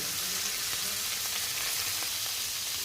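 Puti fish frying with tomato, salt and turmeric in a pan gives a continuous close hiss and sizzle, steady and fairly loud throughout.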